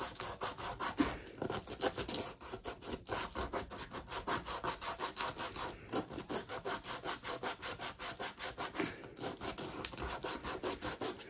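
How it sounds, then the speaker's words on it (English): Sandpaper is rubbed by hand over a plastic diamond painting tray in quick, steady back-and-forth strokes, a close, rhythmic scratchy rasp with no voices. "I always just go over it with a bit of sandpaper just to create"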